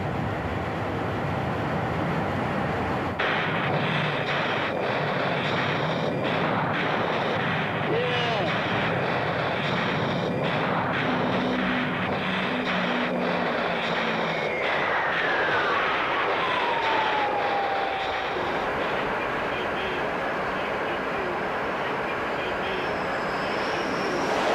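Jet engine roar of an A-6 Intruder attack aircraft flying toward its target, a steady broadband rumble that shifts partway through, with a descending whine and some narration laid over it.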